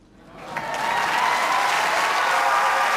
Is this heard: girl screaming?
no